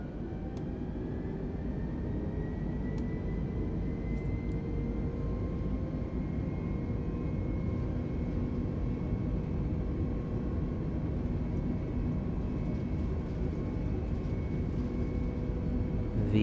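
Airbus A320neo jet engines in Microsoft Flight Simulator 2020 roar at a steady, loud whine and rumble as they spool up for takeoff, a continuous broadband drone with rising tonal hum held throughout.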